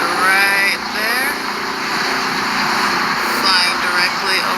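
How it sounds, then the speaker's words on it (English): A helicopter drones directly overhead with a loud, steady engine roar and fluttering rotor pulses, close and continuous. "That is the helicopter right there,"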